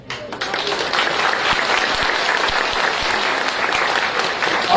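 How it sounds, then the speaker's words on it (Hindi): An audience at a pension scheme rally bursts into sustained applause, loud and dense, holding steady for several seconds. "जो लोग ताली नहीं बजा रहे हैं"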